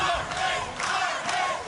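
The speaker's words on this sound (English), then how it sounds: "the crowd behind me, screaming, shouting, Armin, urging him on" Fight crowd at a boxing bout screaming and shouting in a continuous loud roar, with swelling waves of yelling from a packed arena.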